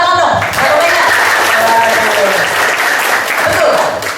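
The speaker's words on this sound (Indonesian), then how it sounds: "tepuk tangan dong" An audience at a book launch bursts into steady, loud applause that holds for several seconds before fading, with some voices audible beneath the clapping.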